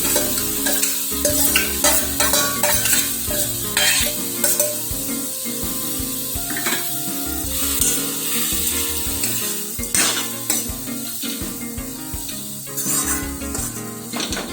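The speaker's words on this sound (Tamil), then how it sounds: "எல்லாம் ஒன்றா சேர்த்து கலந்து விட்டுக்கோங்க" Steady sizzling and frying of coconut and coriander in a pan with repeated scraping and stirring strokes, continuous and close, no voices.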